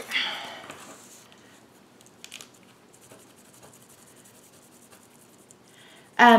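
A Wink of Stella glitter brush pen strokes across a scrap of paper with faint, soft scratching and rubbing, quiet throughout before a sudden louder clatter at the very end.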